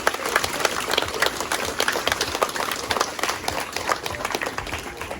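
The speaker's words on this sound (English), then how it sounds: "Give them a round of applause." A school presentation assembly audience applauds steadily, dense clapping filling the whole stretch at a moderate distance, with no speech over it.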